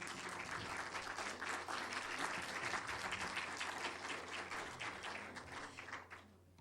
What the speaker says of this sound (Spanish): Pido un aplauso para Beatriz